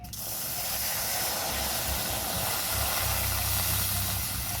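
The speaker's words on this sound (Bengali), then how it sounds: "এখন আমি কড়াতে দিয়ে দেবো জল" Water hits a hot wok in which dried chillies and peppercorns were just fried. A sudden, loud hiss of steam starts at once and holds as a steady, close sputtering roar, with no voices.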